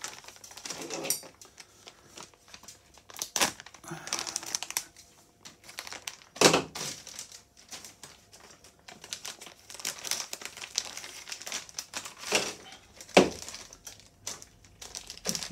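A plastic bag holding RC model power system parts crinkles and rustles close by in irregular bursts as it is opened and handled, with no talking.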